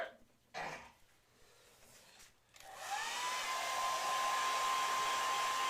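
A hair dryer switches on after a few quiet seconds of faint shuffling and a brief throat sound, then blows steadily and loudly to dry paint on square wall art, with a continuous airy whoosh and a thin whine.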